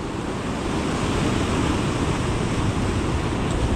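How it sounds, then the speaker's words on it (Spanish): Sea waves break on the rocky coast of Costa da Morte, a loud continuous roar of surf mixed with heavy wind buffeting the microphone, with no voices. "Y aquí rompe el mar, que da gusto."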